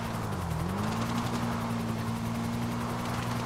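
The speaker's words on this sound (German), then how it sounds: "den Heli werde ich auch nicht mehr los" A police helicopter in the video game GTA V, a steady rotor drone with low thrumming tones that waver briefly, hovering at a moderate, constant level throughout.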